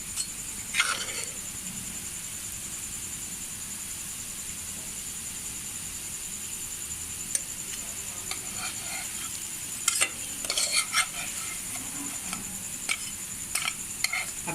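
Bread slices fry in ghee for shahi tukray with a quiet, steady sizzle, broken by occasional light taps and scrapes of a utensil against the pan toward the end.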